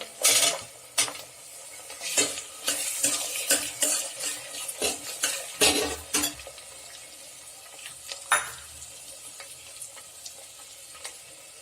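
Butter beans tossed with carrot and green beans in a frying pan while a spoon scrapes and clatters against the metal in an irregular series of stirs over a low sizzle, with no talking.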